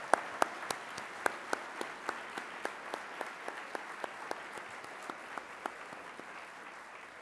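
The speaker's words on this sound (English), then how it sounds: "give the volunteer coordinators and the Galveston Bay Foundation staff a round of applause for their help" Luncheon audience applauds the Galveston Bay Foundation's volunteer coordinators and staff, a steady roomful of clapping under a few loud, regular nearby claps that ring out every fraction of a second.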